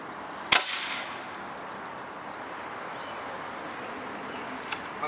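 A Beeman Grizzly X2 dual-caliber air rifle fires: one sharp, loud crack near the start with a brief decay, then quiet room ambience and a faint click near the end.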